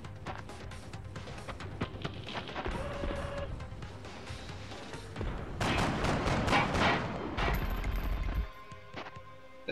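Squad gunfire in XCOM: Enemy Unknown, a dense cluster of shots and impacts building to a louder roaring burst near the end, over a low game background.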